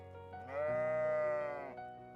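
A single sheep bleat, about a second long, sounds clearly over a quiet background in a gentle hillside pastoral setting.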